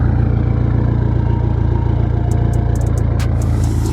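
A BMW F10 M5 sits idling with its cold start turned off, a loud, steady, deep engine rumble close by, with a few faint clicks near the end.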